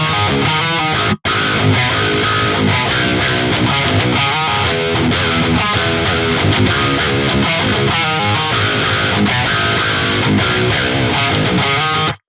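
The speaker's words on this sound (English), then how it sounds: "This is my Jackson MDK 7-string Evertune." Heavily distorted electric guitar riffing on a Jackson MDK 7-string Evertune, loud and dense with chugging low notes, playing continuously apart from a brief gap near the start.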